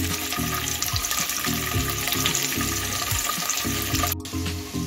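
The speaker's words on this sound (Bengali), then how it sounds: "সাদা তেল গরম করে নিয়েছি। এখন আমি পনিরগুলো ভেজে নেব।" Paneer fries in hot white oil in a nonstick pan with a steady, loud bubbling sizzle up close. Low clatters and knocks sound under the sizzle, and a brief dropout comes near the end.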